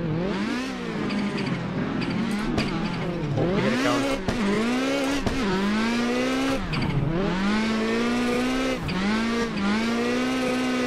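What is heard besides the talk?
loud drift car engine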